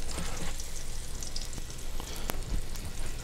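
Pork sears in hot oil in a pan with cumin and coriander, giving a loud, continuous close-up sizzle broken by a few sharp pops and ticks.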